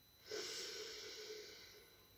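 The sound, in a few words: breathing in deeply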